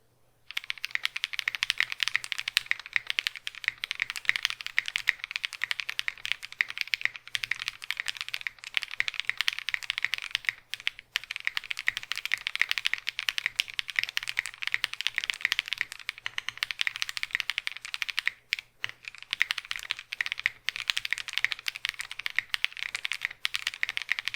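Close, continuous typing on a mechanical keyboard fitted with lubed Cow switches, a rapid stream of light clacks with brief pauses and no talk.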